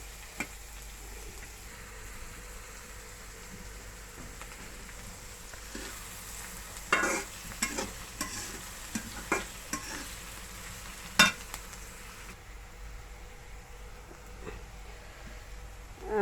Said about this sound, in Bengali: পেঁয়াজটা আমি একটু মোটা করেই ভেজে নিছি